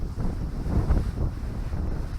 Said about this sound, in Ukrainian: вітер в нас такий сьогодні боковий, дуже зносить